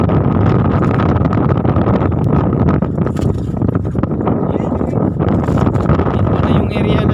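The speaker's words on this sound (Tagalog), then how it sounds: "Medyo malakas ang hangin," Strong wind buffets a fishing boat out at sea, a loud, steady broadband roar and rumble filling the whole stretch with gusty fluctuations, a motor hum mixed in beneath.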